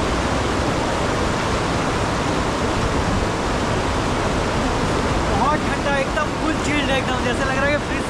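Mountain stream water rushing steadily in Sonmarg, Kashmir, a loud, continuous broadband roar close by, with faint voices and a few higher tonal sounds near the end.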